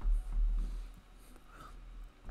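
Fingers type a single word into a computer's plugin search field on a keyboard, giving a quick run of soft, light key taps at close range with no talking.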